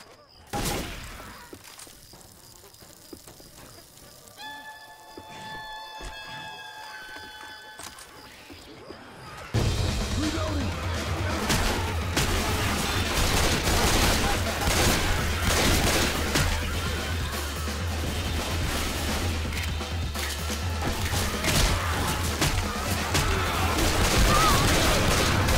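Dense, sustained gunfire from the Left 4 Dead 2 Swamp Fever campaign erupts suddenly after a quieter stretch with faint tones, then keeps roaring loudly and continuously to the end.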